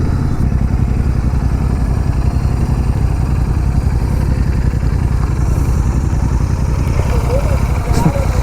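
A motorcycle exhaust throbs loud and close with a steady, rapid low-pitched pulsing rumble that holds evenly for several seconds, like a bike sitting at idle.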